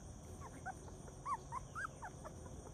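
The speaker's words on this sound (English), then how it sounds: "I'm along with Sunshine and her and Parker's litter of English cream puppies." English cream golden retriever puppies from a litter of six give soft, high whimpers and brief yips in a few short bursts over a faint steady background hiss.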